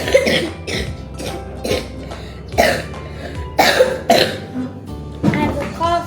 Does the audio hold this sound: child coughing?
yes